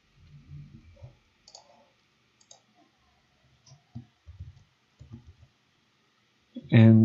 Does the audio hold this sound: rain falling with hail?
no